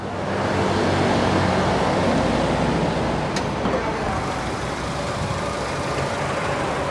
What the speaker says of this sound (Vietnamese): Máy nổ thì thầm mùi xuân rồi.